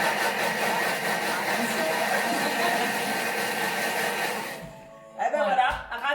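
A Thermomix blends strawberry mousse at speed 6, giving a loud, steady whirring roar for about four and a half seconds before it cuts off abruptly and a voice starts talking.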